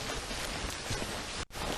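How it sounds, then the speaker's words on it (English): Heavy rain pours down in a steady, dense hiss that fills the whole stretch, with only a brief dip near the end. "It's gone into heavy rain."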